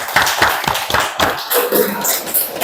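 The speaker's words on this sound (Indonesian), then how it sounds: "Tepuk tangan untuk kita semua dulu." Students in a classroom applaud, with a burst of sharp, uneven hand claps close by, fading into scattered claps and some voices.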